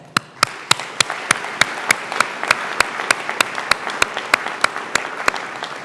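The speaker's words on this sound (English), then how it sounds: "A very well-deserved round of applause is appropriate at this time." Crisp, regular clapping at a pharmacy school white coat ceremony, a steady beat of sharp claps about every quarter second standing out over a softer wash of crowd applause, held evenly throughout.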